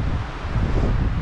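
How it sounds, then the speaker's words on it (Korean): Strong, roaring wind buffets the microphone on a stone-stepped mountain trail toward Ulsanbawi in Seoraksan, with a continuous low rumble and no other sounds. "지금 저는 바람 소리가 아주 크게 들리는데"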